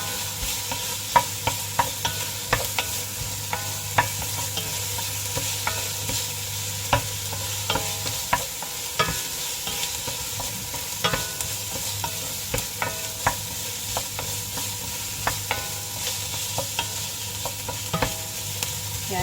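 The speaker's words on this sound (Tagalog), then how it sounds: "Kailangan natin magisa ng kaunti yung bagnet." Chunks of precooked bagnet, crispy fried Filipino pork, sautéing in a pan: a steady close sizzle with frequent scraping and tapping of a utensil stirring throughout, no talking.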